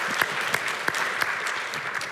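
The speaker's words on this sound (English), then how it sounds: "they truly deserve a round of applause" An audience at a live morning show breaks into steady applause, many hands clapping in a dense, moderately loud patter with a few sharper claps standing out over roughly two seconds.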